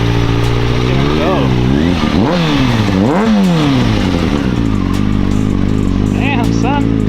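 A 2006 Kawasaki ZX6R sport bike, old and barely running, revs and pulls away, its engine rising and falling in pitch through several throttle blips while people talk over it nearby.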